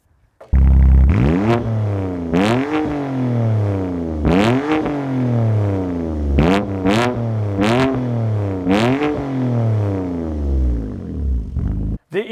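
A BMW M2 Competition engine revs hard several times in bursts, each roar climbing then falling back to a deep rumble, loud and close, with no talking.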